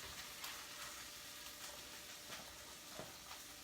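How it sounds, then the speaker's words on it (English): Sliced half-moon onions fry in a pan, giving a faint, continuous hiss and sizzle. Soft stirring taps come through now and then, and no one speaks. "Put the onions in."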